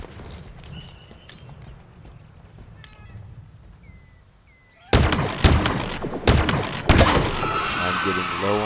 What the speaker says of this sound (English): Hear it in the sound of the firing.